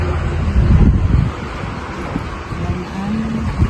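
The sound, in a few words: strong wind blowing over a burned field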